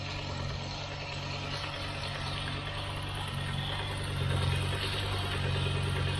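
A Citroën XM V6 idles steadily just after a cold start, warming toward normal running despite intermittent cutting, with a low, even drone that swells slightly midway and holds close and constant throughout.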